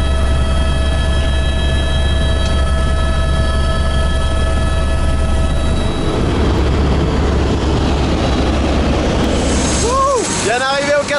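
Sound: helicopter

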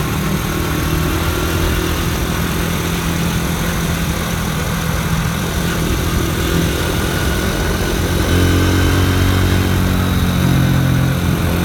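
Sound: Honda Dream motorcycle engine while riding

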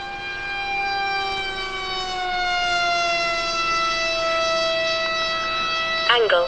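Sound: ZOHD Alpha Strike RC plane motor at 60% throttle

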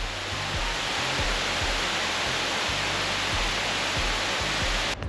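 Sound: Brandywine Falls waterfall, 65-foot drop

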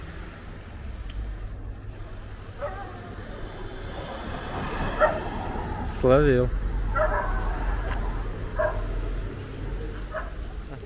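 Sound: dog barking

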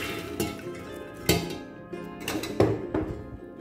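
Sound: soaked chickpeas put into a pressure cooker

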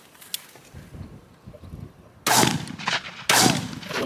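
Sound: shotgun shot while pigeon shooting

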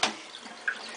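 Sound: water running from a tap while rinsing a pet

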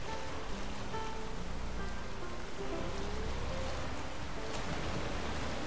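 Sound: splashing in water, from a video game

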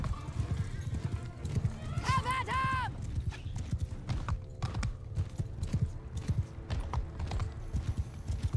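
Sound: horse galloping in video game Bannerlord

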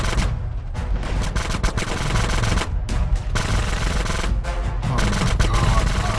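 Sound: gunfire from two weapons in GTA San Andreas video game

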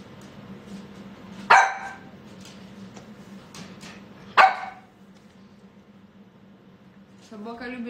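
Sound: dog barking

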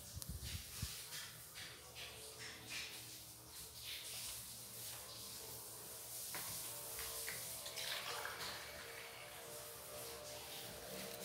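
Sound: water poured into a cooking pot

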